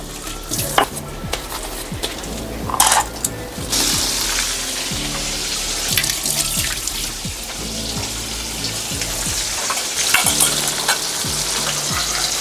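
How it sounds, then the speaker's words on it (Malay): Steady loud sizzling of chicken frying in hot oil, with occasional clinks of a utensil against a pan and brief splashes of running water. "Sambil nak goreng ayam tu"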